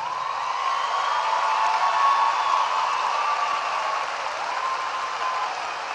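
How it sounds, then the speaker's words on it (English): Steady, even applause from a large graduation audience honoring the faculty and staff of Justin F. Kimball High School in Dallas, a continuous wash of many hands clapping at moderate distance without pause. "would you please stand and step out and be recognized and receive their applause for supporting our graduates"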